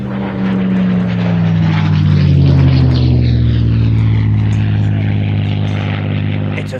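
A Russian Spitfire propeller fighter, flown by Peter Teichmann, passes close and loud. Its engine drone drops in pitch as it goes by, swelling to a peak midway and then fading slightly.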